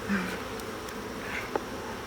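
Honeybees buzzing faintly and steadily around an open hive during a summer hive inspection, a soft continuous hum with a brief tap partway through and no talking.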